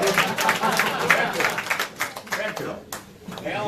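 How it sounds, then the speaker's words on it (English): A crowd at a launch event in Burbank, California claps for Lilian, with steady, dense applause and voices talking and cheering over it that thin out toward the end. "Let's give you a applause"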